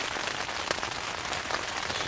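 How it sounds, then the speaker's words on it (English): Heavy rain drums steadily on a tarp stretched over a tent on a hilltop, a dense continuous patter with occasional louder drops, close and alone with no talking. "It's absolutely chucking it down now, but I've got my tarp over the tent."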